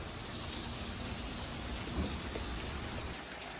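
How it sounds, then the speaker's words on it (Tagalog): Heavy rain falls steadily outside a house under renovation, producing a dense, unbroken hiss with a low rumble that stays even throughout and has no talk over it. "Maulang maulan."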